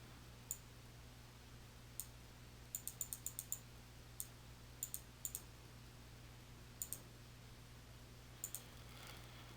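A computer mouse clicks repeatedly while a picture's format settings are edited, in sparse single clicks and a quick run of several clicks. The clicks sound close but quiet against a steady low electrical hum, with no talking.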